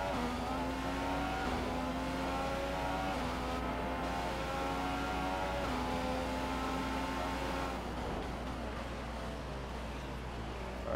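Close and steady, a high-pitched Formula 1 engine in F1 2015 at the Austrian Grand Prix whines through a corner, its tone dipping and rising as the car brakes and accelerates, with no voices.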